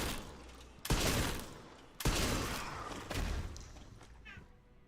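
Uzi gunfire in the video game Resident Evil Requiem: three sharp, loud bursts of rapid shots, each starting abruptly and tailing off, separated by roughly a second of quieter gaps.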